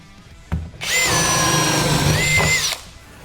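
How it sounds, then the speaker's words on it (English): A power drill with a Stinger spade bit bores through dense Ipe hardwood, a loud, steady whine lasting about two seconds after a brief knock, then cutting off, with no voices. "The Stinger bit will go right through Ipe."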